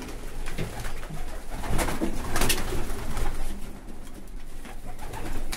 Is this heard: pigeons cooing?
yes